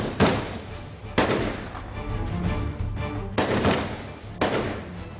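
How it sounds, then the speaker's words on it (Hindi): Sharp, loud gunshots crack out one at a time during a police raid, about five reports spread unevenly over a few seconds, each echoing in a noisy, busy outdoor setting. "नाज़रीन इस वक्त चारों तरफ से फायरिंग शुरू कर दी है"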